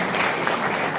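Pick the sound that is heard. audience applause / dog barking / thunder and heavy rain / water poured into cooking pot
audience applause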